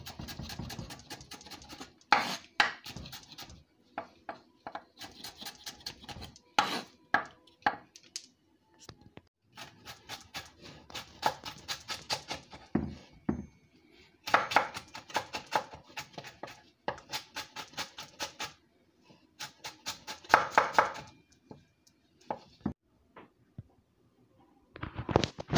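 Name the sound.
julienne cutting vegetables with a knife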